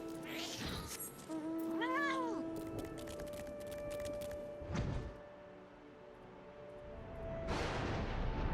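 A cat meows in Final Fantasy XIV, a short rising-and-falling call near the two-second mark, set against steady game music and ambient tones with a few soft thumps.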